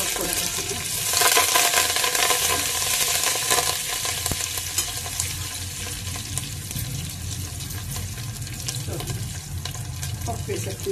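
Curry leaves crackle in hot oil for a tempering in a home kitchen, a dense steady sizzle close up that swells early and then settles into an even hiss under a faint low background rumble.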